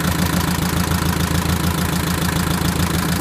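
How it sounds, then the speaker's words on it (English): A Mercedes 190d W201 diesel engine idles steadily close by, a continuous low rumble with a faint rhythmic knock and no voices. "So the engine's been on for close to a minute now"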